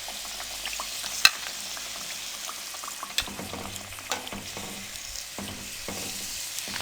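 Potato and gram flour fritters (aloo katli) fry in hot oil with a continuous crackling sizzle, broken by a few sharp clinks and scrapes of a utensil, close by.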